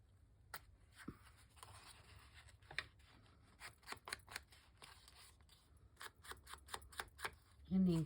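A strip of paper is torn off a journal card in short, quiet bursts of crisp rustling and ripping, close up in a still room.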